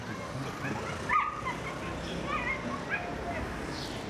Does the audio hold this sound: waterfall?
no